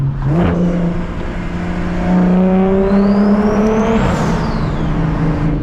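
A single-turbo BMW 335is accelerates at light throttle through an underpass at night, a loud, steady engine drone rising in pitch through the revs with a turbo whistle climbing above it, echoing close around the car.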